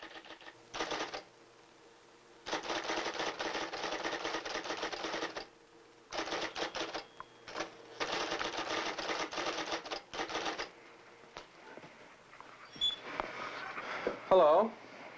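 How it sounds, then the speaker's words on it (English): Typewriter keys clatter in long rapid bursts separated by brief pauses, with a carriage bell or return near the end, loud and close, alone without speech. "You've caught me typing, but that's no surprise. I'm typing all the time."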